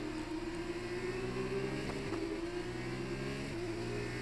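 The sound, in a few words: racing car engines in a video game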